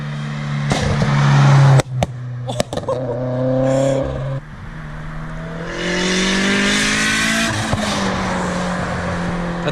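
Modded Subaru BRZ/Toyota FRS with loud exhaust on back roads, revving hard with rising engine tones, sharp crackling pops and bangs, then another surge of acceleration roaring close by.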